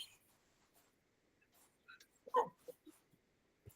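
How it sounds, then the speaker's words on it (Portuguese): Dogs bark in the background, faint and distant, with a few short yips clustered together amid near silence. "A cachorrada aqui animou, vocês devem estar escutando aí."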